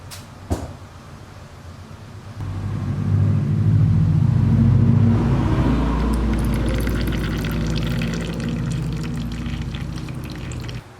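Old gear oil pours steadily from the drained transmission of a Yamaha YZ125 dirt bike, a continuous liquid stream starting after a brief clunk and running loud and close for most of the stretch, with no talking.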